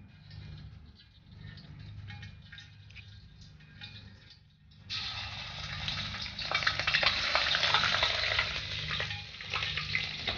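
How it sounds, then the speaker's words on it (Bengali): Panch phoron spices drop into hot oil for a Bengali festive dish, setting off a sudden burst of loud, crackling sizzle and spitting after a quieter stretch of soft pan noise. The sizzling holds close and busy to the end. "আমি পাঁচফোড়ন দিলাম"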